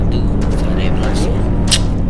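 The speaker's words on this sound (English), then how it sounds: "Man, this stupid car too loud." Loud car engine in a roleplay video game, a constant low rumbling drone filling the whole moment, with a person talking over it.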